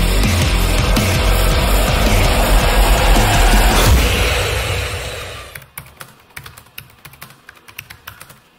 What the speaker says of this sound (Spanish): escribiendo tiene un sonido muy parecido a un teclado mecánico, aunque evidentemente no lo es un teclado híbrido